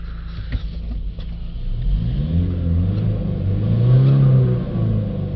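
Ford Transit Custom 2.0 diesel van with a turbo boost fault idling nearby, then revved in rising and falling sweeps that climb to a louder peak before easing back, with no talking.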